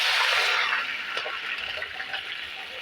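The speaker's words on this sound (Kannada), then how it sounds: "ಇವಾಗ ನಾನು ನೀರು ಹಾಕ್ತೀನಿ." Water is poured into a pot of semolina for a crispy potato snack. A strong rushing gush at first settles into a softer, steadier trickle, close and alone.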